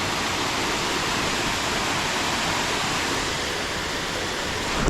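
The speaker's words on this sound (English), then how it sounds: "Love seeing the raindrops on the surface of the water." Rain falls onto an open water surface at Horrabridge, a dense, unbroken hiss of drops that stays steady and fairly loud throughout, with no voices.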